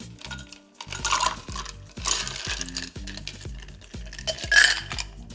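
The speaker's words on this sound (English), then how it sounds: "Give it a little stir." A michelada of beer, black pepper and ice being stirred, the spoon or ice clinking against the glass in a quick, repeated rhythm of bright rattling knocks, close and clear with no talking.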